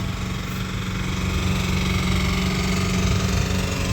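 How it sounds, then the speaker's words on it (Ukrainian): Large power generator running in a street in Dnipro during a city-wide blackout, a steady loud engine drone with a rhythmic low throb, continuous and without voices. "ось генератор працює"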